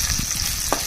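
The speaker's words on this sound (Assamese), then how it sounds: "এটা গৰম কেৰাহীত পিঁয়াজ আৰু জলকীয়া প্ৰথমে ভাজি ল'ব, ধুনীয়াকৈ ব্ৰাউন হোৱালৈ ভাজিব" Onion and green chili fry in a hot wok, with a steady close sizzle and light stirring scrapes through the short span.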